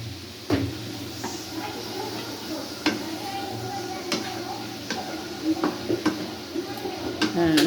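Rice being stirred in a cooking pot, with a handful of sharp utensil knocks against the pot spaced irregularly over a low background of gentle scraping and faint sizzle, close by.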